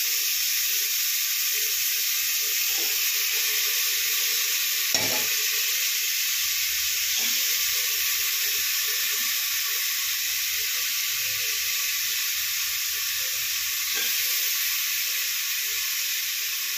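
Tadka (tempering) sizzles steadily in a pan for Indian home cooking: a loud, continuous frying hiss runs throughout, with occasional stirring clinks and a sharp knock near the middle, and no talk.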